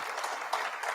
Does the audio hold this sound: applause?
yes